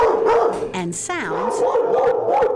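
Dogs in animal shelter kennels bark and howl in an echoing hall, with a rising and falling howl in the middle, while a person speaks over the noise.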